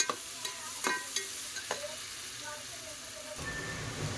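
Chopped onions frying in a pan for pav bhaji, a steady close sizzle with a few sharp scraping stirs in the first half and the hiss shifting near the end.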